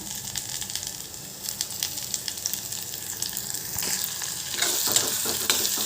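Tomatoes drop into a pan of drumstick (moringa pod) curry frying in oil, giving a steady close sizzle with light stirring scrapes that grows louder and busier toward the end.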